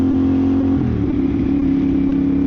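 A motorcycle engine during a DMV motorcycle road test, a loud close steady drone with a pitch shift as the rider accelerates, continuing alone without talk.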